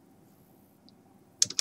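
A few quick keystrokes on a computer keyboard click near the end of an otherwise quiet stretch, a short close burst of two or three taps.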